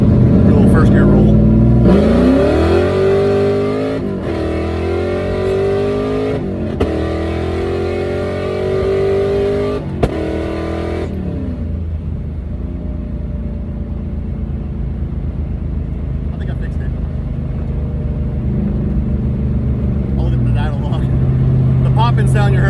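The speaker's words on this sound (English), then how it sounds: "Popping sound you heard was a no lift shift." Camaro with a 4x setup pulling through first gear, engine revving loudly and rising in pitch before a no-lift shift cuts it with sharp exhaust pops, then settling into a lower steady drone.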